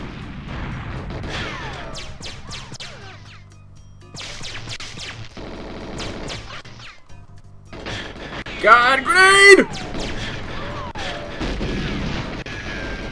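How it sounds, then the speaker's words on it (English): Grenade explosions and gunfire in the N64 shooter GoldenEye 007 on the custom Gasworks level, several booming blasts with one loud burst near the middle, heard over game sounds and a player's voice. "shot her grenade while it was in her hand"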